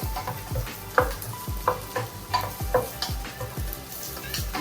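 Food fries in a pan with only a little oil, giving a steady crackling sizzle with repeated stirring scrapes, close and moderately quiet, with no talking.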